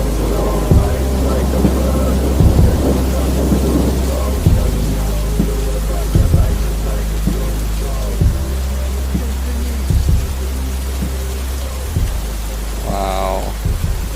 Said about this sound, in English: Got a little bit of thunder and lightning over here.